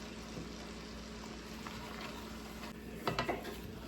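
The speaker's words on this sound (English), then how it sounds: "We're gonna keep stirring this around and let that cook on like a very low heat" Vegetables slow-cooking in butter in a pot over very low heat, being stirred with a utensil: a faint, steady sizzle with soft scraping strokes and a few clinks of the spoon against the pot near the end.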